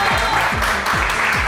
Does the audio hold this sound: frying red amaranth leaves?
no